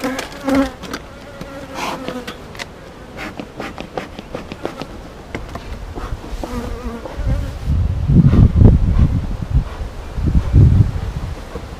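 Honeybees buzz around a backyard hive as it is smoked, a steady close drone of many insects with rustling and dull handling bumps growing louder toward the end.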